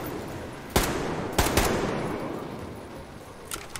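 Gunfire from Metro Exodus: three sharp shots ring out in the first half, followed by a fainter fourth near the end, over a steady noisy game background with no talk.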